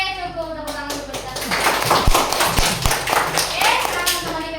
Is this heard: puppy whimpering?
no